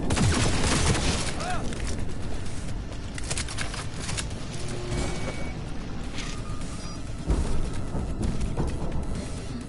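Sustained volleys of gunfire from a Cyberpunk 2077 firefight on PlayStation 4, loud and dense throughout, with crashes and mechanical clatter mixed in and voices breaking through the barrage.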